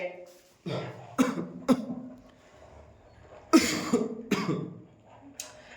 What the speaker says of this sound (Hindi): बहुत खांसी हो रखी है